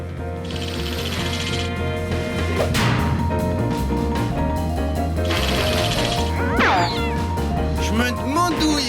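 A cartoon cat lets out several drawn-out, wavering meows over busy background music and sound effects, with voices talking in between.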